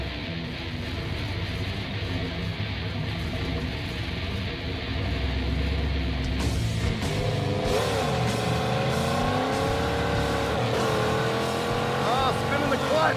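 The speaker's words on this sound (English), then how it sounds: "that was spinning the clutch through every gear" A drag car with a swapped 350 V8 and six-speed transmission launches hard, the clutch slipping through every gear. The engine sound is loud and sustained and rises in pitch again and again as the car pulls away, with some voices talking faintly beneath it.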